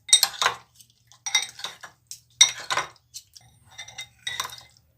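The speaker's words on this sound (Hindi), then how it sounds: "अब हम इसे अच्छे से मिक्स कर लेंगे" A chicken marinade of salt, garam masala powder, green chili sauce and lemon juice is mixed in a bowl: bursts of scraping and clinking spoon-on-dish sounds come in short, irregular strokes with quiet gaps.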